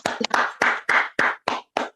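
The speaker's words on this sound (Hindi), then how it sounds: "एक जोरदार ताली खुद के लिए" A group claps together for themselves at the close of a chakra healing meditation session, giving about eight loud, sharp, evenly spaced claps, close and clear with no talk.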